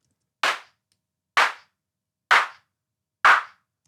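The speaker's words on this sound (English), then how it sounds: "it makes it sound more like a clap" Four crisp synthesized claps, evenly spaced about a second apart, each a sharp bright burst with a quick decaying tail, loud and dry with silence between.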